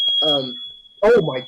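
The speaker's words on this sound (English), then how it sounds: "That is the fire alarm." A smoke-detector-style fire alarm gives a steady high-pitched beep indoors, continuous under two brief bursts of startled speech.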